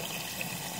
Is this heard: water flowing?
yes